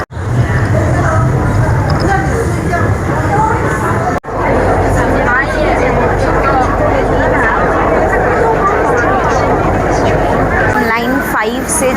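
A Guangzhou Metro Line 5 train rides along with a loud, steady rumble under constant crowd chatter, broken by one brief dip partway through.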